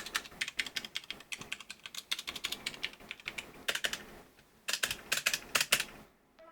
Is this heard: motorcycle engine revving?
no